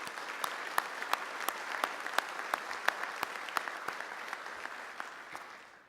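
An audience at a military symposium applauds, with steady clapping and sharp individual claps standing out, fading near the end.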